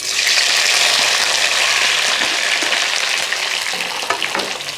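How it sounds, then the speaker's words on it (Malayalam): Chopped okra dropped into hot oil fries with a loud, dense crackling sizzle that holds steady, close and alone with no voices. "ഇനി നമുക്ക് ഈ അരിഞ്ഞ് വെച്ചിരിക്കുന്ന വെണ്ടയ്ക്കായും കൂടെ ഈ എണ്ണയ്ക്കകത്തോട്ട് ഇട്ട് കൊടുക്കാം."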